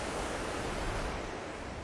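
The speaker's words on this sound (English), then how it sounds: "There's 8 tonnes of water that flows through this weir every second." Water pouring through the Abingdon weir on the river, a steady broad roar and hiss that stays even and loud throughout with no other sounds.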